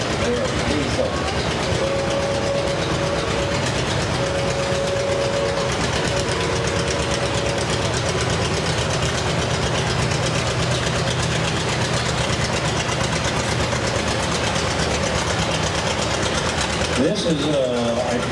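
A Case 730 diesel tractor, a weekly special, runs at a steady idle at a vintage farm show, with its continuous rumbling chug loud and close while people talk over it.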